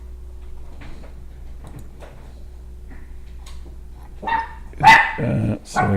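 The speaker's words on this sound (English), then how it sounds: "Sorry, dogs are barking." Dogs bark indoors in a few loud, sharp bursts near the end, after a quiet stretch with faint distant yips and low background hum.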